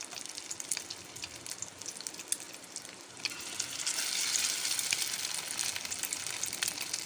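Egg-dipped shami kebabs frying in hot ghee over a low flame, a steady close sizzle and crackle that swells louder partway through, with no talking.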